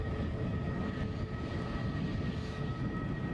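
easyJet Airbus A320neo airliner at Edinburgh Airport, a faint steady engine rumble with a few thin whining tones, continuous and distant, with no voices.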